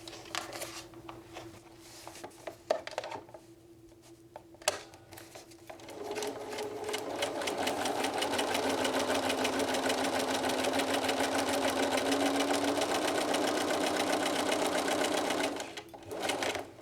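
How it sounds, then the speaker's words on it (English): Sewing machine stitching a seam through fabric for paper piecing, a few short starts and then a long steady run of fast rhythmic stitching, close and fairly quiet, stopping near the end. "And sew that last line."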